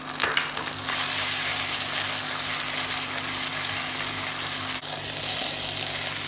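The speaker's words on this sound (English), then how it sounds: "now we have fried our ginger and garlic paste along with turmeric and onion for 3-4 minutes till that raw smell goes" Ginger garlic paste with turmeric and onion frying in oil for an egg malai korma, giving a steady, dense sizzle that holds evenly throughout with no talk.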